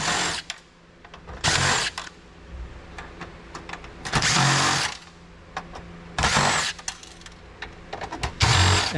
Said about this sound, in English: Now we're down to screws. So we just work our way around the side.